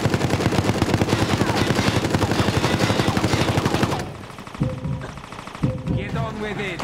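A deployed gun in the video game Resident Evil: Resistance firing a rapid, dense automatic stream for about four seconds, then stopping, followed by quieter game sounds and a voice.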